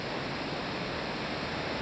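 A river runs through the inside of a cave, a steady broadband rush of flowing water, even and unbroken, with no voices.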